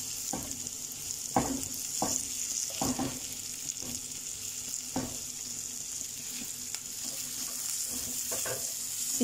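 Chopped onion sautéing in a pan for a chicken fettuccine dish, a soft continuous sizzle with periodic muffled scrapes from stirring, fairly quiet and steady.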